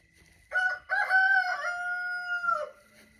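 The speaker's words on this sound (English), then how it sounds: "Now I'm out here listening to the roosters until it gets a little bit more light out" A rooster crows once outdoors before daylight, a clear, loud, drawn-out cock-a-doodle-doo lasting a couple of seconds against an otherwise quiet backdrop.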